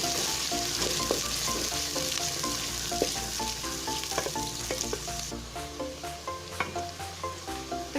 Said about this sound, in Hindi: अब इस घी में प्याज लाइट ब्राउन कर लेंगे।